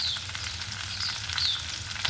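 Onion sizzles softly in a hot, oily pan, a close, steady crackle and hiss with faint scraping of stirring.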